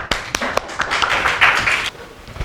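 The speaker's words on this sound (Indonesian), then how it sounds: "Kasih tepuk tangan dan semangatnya" Classmates in a school lesson clap for a group as it comes forward to present. A few separate sharp claps come first, then a short, light burst of clapping that quickly fades.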